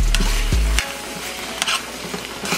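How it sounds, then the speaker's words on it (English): Pre-cooked shrimp sizzling in a hot pan while being stirred and tossed, a low rumble dropping off early into steady frying hiss with a few sharp utensil scrapes, close and moderately loud, no talking. "So we're gonna add the shrimp."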